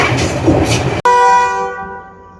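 Loud, continuous rumble and clatter of a moving passenger train travelling from Jaffna toward Batticaloa, with a brief sharp cut about midway, then a steady ringing, horn-like tone that fades.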